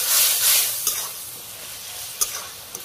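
Spices sizzle and fry in a pan in a village kitchen while a spoon stirs them, a steady close hiss broken by a few sharp scraping clicks.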